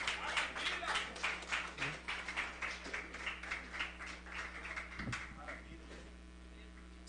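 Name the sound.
congregation applauding in church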